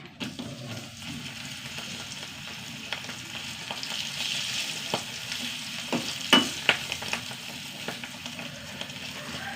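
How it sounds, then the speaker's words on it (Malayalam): Dried chilies crackle and sizzle in hot oil, a steady frying hiss with scattered sharp pops and a few louder clicks, close by, no talking. "ഇതിൽ തന്നെ രണ്ട് മുളക് വറക്കട്ടെ കേട്ടോ"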